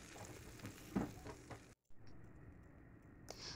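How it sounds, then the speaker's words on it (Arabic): Garlic and tomatoes fry in ghee butter in a pan, a soft steady sizzle with a few stirring clicks, briefly cut to silence midway and then continuing more faintly. "معلقه من السمنه الزبده، وهننزل عليها بمعلقه من الثوم او 4 فصوص من الثوم"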